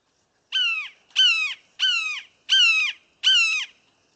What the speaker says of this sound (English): So I'm going to play that first sound that can be a little bit loud from our red-shouldered hawk.